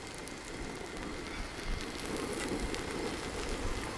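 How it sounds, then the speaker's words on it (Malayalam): An egg fries in oil in a pan, giving a steady close sizzle with fine popping and crackling throughout and no talking. "അപ്പോൾ ചുറ്റും നമുക്കൊന്ന് ചെറുതായി ഓയിൽ കൂടെ ഒഴിച്ചു കൊടുക്കാം."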